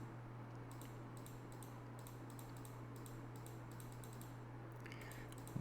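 Mouse clicks while working in Photoshop on a computer: a steady series of light, crisp clicks in irregular runs over a low constant hum, fairly faint and close, with no voices.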